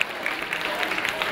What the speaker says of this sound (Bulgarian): Моля, бурни аплодисменти за нея.